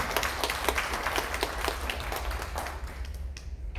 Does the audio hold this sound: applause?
yes